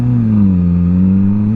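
A QJ Motor SRK 921 motorcycle engine holding a loud, close, steady rev, its deep buzzing note dipping slightly then rising again over about a second and a half, with no talking.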